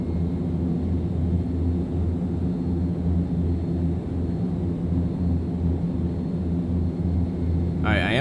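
A steady, loud, broadband engine rumble and roar from an airliner departing in the X-Plane 11 flight simulator, continuous throughout with a low droning hum and no break.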